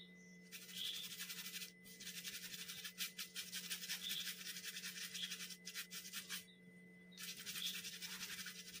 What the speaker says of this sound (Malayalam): പിന്നെ നമുക്ക് നമ്മുടെ പേസ്റ്റ് ഒന്ന് തേച്ച് കൊടുക്കാം